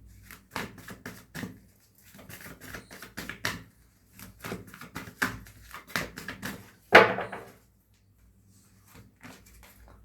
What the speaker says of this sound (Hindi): चलिए और कार्ड्स को शफल कर लेते हैं एक बार और।